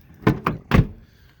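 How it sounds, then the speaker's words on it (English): A heavy 2021 Toyota Tacoma SR pickup truck door shuts nearby: a couple of quick knocks, then one solid, weighty slam that rings off briefly. "These doors you gotta close. You hear it close. They're not light."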